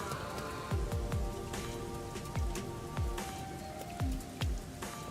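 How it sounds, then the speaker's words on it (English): Steady rain falls throughout in Master Detective Archives: Rain Code, a dense wash of patter with no talk. Low swooping tones recur several times at an even pace. "Bless the red rain. The rain of blood."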